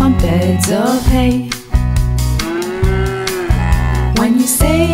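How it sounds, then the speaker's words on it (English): Mooing cows from a farm-themed children's song, steady lowing calls over a thumping rhythmic backing with repeated beats, loud and close throughout. "When you say hello to the cows, they say moo, moo, moo, moo, moo,"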